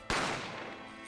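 A single gunshot sound effect from The Great Ace Attorney, one sharp, loud crack followed by a long ringing decay that fades slowly over the next second, with nothing else heard.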